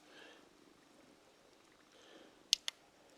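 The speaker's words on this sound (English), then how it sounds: "He has absolutely the loudest purr of any of my cats." A quiet, rhythmic domestic cat purr rises and falls close by beside a fire, broken by two sharp clicks near the end.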